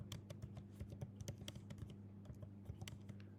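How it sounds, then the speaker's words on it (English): Rapid typing on a computer keyboard: dense, uneven clicks close by over a steady low electrical hum. "you could type in click here for more help"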